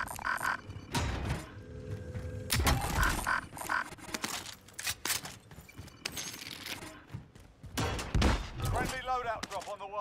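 Video game gunfire crackles in rapid, irregular bursts and single shots over about ten seconds, fairly faint, mixed with scattered game sounds.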